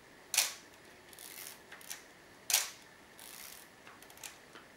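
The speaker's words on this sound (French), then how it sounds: "Bessa R2 fait donc le même genre de bruit que sur un réflexe" A Voigtländer Bessa R2 film camera's metal shutter fires twice, each release a sharp, close mechanical click followed by fainter clicks of winding and handling in a quiet room.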